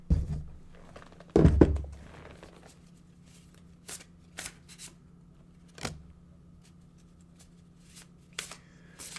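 Tarot cards shuffled by hand in a quiet room: one short dense riffle burst near the start, then scattered soft taps and card flicks, close and clear, no talking.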